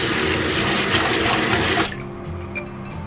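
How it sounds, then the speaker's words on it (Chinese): Water runs steadily from a tap while dried cordyceps flowers are washed, then cuts off, leaving faint kitchen clatter. "接着我们洗一点这种干的虫草花"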